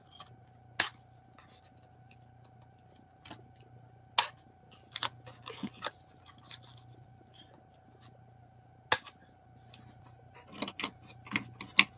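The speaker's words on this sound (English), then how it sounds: "Let me try my other smaller scissors." Small scissors make a few sharp, isolated snips during a quiet desk crafting session, with soft rustles and light handling clicks between the cuts.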